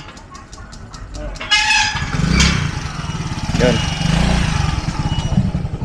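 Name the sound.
motorcycle engine running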